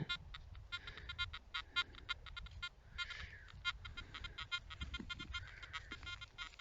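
Rapid, steady electronic beeping pulses from a metal detector signal repeat throughout, a continuous chirping tone pattern from close by, with no talking.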